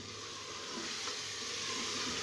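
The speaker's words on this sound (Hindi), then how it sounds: "अब मैं इसमें साथ ही टमाटो प्यूरी डाल दूंगी।" Tomato puree going into mutton masala in a pot, with a steady, close sizzling hiss of frying that runs throughout.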